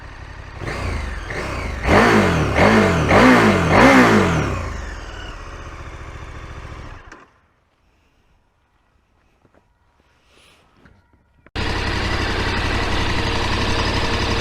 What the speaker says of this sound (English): Let's listen to the sound of the engine.